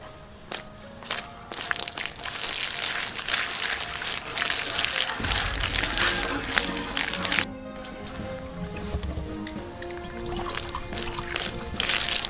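Water is poured and sloshed to fill a drum pump by a river, trickling and splashing at close range with irregular bursts, a heavier gush in the middle and a short silent gap.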